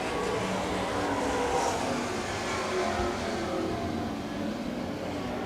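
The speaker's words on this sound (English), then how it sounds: "Here comes Eddie Hoffman in car number 8 trying to take second." Race car engines roar steadily at a distance at Grundy County Speedway, a continuous blur of engine noise with a slight rise as cars speed past.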